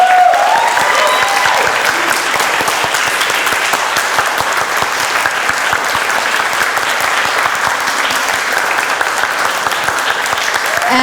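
Loud, sustained applause from an audience at a writing academy event, dense steady clapping filling the whole stretch with no talk over it.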